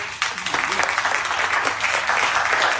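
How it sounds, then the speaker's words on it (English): An audience at a business keynote breaks into a dense wash of applause that holds steady, with some voices mixed in. "Y'all got to keep clapping."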